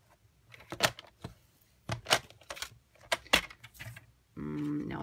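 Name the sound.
cutting cardstock for a card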